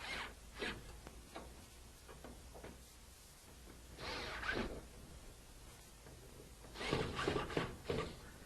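Screws are tightened by hand on a classic Ford Mustang headlight, giving quiet, short scraping and ratcheting bursts separated by pauses.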